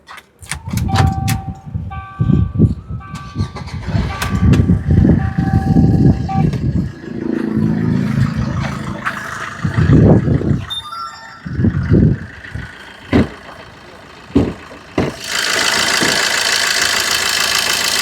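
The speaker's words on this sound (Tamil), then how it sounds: "வண்டி ஸ்டார்ட் பண்ணியா" A diesel car being started and left idling, with clattery engine bursts, knocking pulses and revving swells through the stretch, then a steady broadband hiss near the end; people talk faintly at times.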